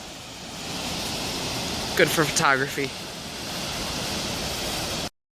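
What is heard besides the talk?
waterfall and rushing creek water, Glacier National Park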